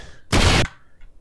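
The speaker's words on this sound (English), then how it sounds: "I just heard a violent explosion. Out of the sky." A single loud, sharp explosion bursts in the survival video game 7 Days to Die, a broadband blast lasting about a third of a second before fading into quiet.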